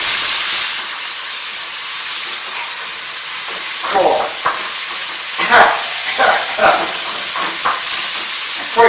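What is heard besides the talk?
stir frying chicken, long beans and onion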